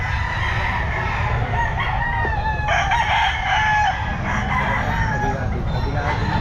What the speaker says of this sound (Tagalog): Ito yung mga manok ni Boss Jmar.